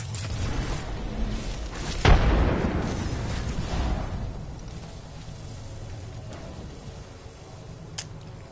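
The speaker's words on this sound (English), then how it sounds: "get those grenades in there" A single loud, close grenade explosion in Apex Legends, a sharp boom that decays into a long rumbling tail, followed by a faint distant pop later on.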